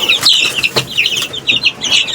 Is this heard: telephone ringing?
no